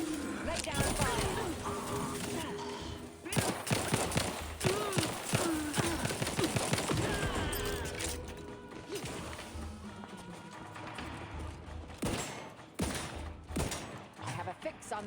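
Dense, rapid gunfire crackles nonstop in a sci-fi shooter game, loud and close, with sharp impacts and crashes mixed into the barrage while voices speak over parts of it.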